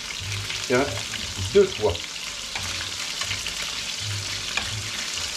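Meatballs sizzle steadily in a frying pan while they are turned over, with a few clattering knocks as they are moved around. A voice speaks briefly.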